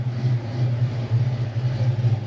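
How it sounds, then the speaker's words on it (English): A lowered Fox-body Ford Mustang with a 5.0 engine idles steadily nearby, a low, even burbling rumble with a slight pulsing lope and no talking over it. "car's idling away, doing its thing"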